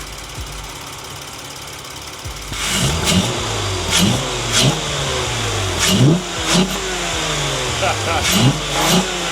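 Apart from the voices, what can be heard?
car engine revving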